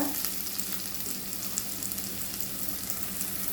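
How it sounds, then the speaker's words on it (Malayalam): Onions with garlic and green chilli sauté on high flame over a small burner, giving a dense, even hiss of frying that holds steady at moderate level, with faint stirring ticks and no voices. "സവാളയും ഹൈ ഫ്ലെയിമിൽ തന്നെ വെച്ച് വഴറ്റുക"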